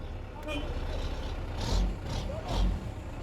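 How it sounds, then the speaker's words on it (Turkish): Ford Transit van being driven forward beside a truck: a steady engine rumble with a few sharp air-brake hisses, and voices talking over it. "Tamam ileri alıyorum arabayı."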